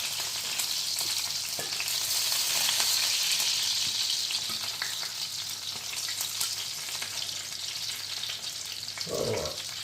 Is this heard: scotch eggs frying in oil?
yes